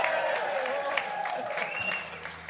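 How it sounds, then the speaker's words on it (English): Concert audience at a Celtic music festival in Glasgow cheering and applauding, a loud, steady wash of clapping and crowd noise throughout. "Can I have a bigger cheer first,"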